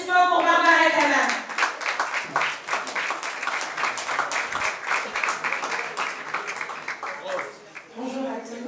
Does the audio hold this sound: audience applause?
yes